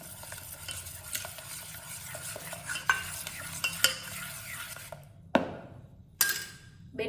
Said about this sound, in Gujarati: બેટરને આપણે ફીણી લેશું જેથી કરીને ચણાના લોટમાં ગાંઠા ના રહે.